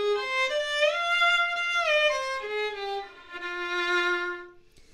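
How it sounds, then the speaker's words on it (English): A solo melodic instrument plays the five notes of the pentatonic Shivranjani raga, sustained tones with smooth slides between pitches, clear and close with no talking. "So raga or Shivranjani is a pentatonic tone collection."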